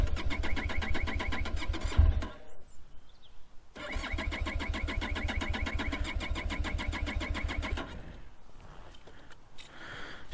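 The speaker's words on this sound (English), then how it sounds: "this morning I've come to start the bike and she won't start" A Benelli TRK motorcycle, apparently flooded, fails to start: two long bursts of rapid, even starter-motor cranking with no catch, separated by a short pause, then a quieter rustle and faint clatter at the end.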